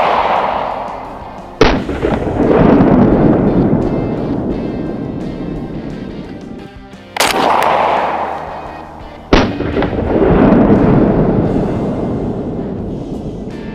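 Three loud blasts from an IWI Tavor TS-12 shotgun, each a sharp crack followed by a long rumbling decay, spaced several seconds apart outdoors with wind noise.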